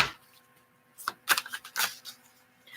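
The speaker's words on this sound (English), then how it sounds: "Let me shuffle these cards back up for Tammy." Tarot cards being shuffled during a reading: several quick papery riffles and slaps in short bursts, close and fairly soft, with quiet pauses between.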